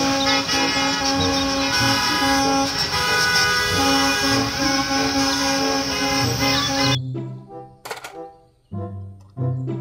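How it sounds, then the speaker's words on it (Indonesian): A toy school bus sounds a long, steady electronic horn tone for several seconds, loud and close, then cuts off into a few short bursts with brief gaps. "mobil bus sekolah"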